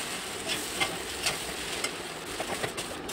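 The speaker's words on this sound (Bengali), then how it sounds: "চাউমিনগুলো দিয়ে ভালো করে নেড়ে নিচ্ছি" Chow mein stir-fried with paneer and vegetables in a pan, a continuous low sizzle broken by soft, irregular scrapes and tosses as the noodles are turned.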